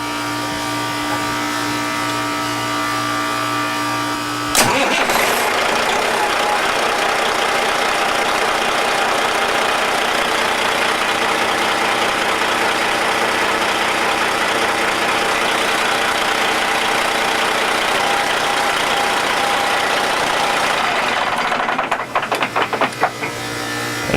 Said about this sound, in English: We're ready to run the engine to make sure that there are no leaks.